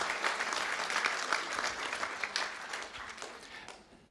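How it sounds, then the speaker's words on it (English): An audience at a Boerne ISD school board meeting applauds with steady, dense clapping that gradually fades out over about four seconds. "Big round of applause."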